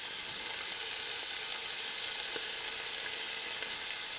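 Thin-cut beef fries in hot olive oil in a pan for beef stroganoff, making a constant, dense sizzle that stays even throughout with no talking.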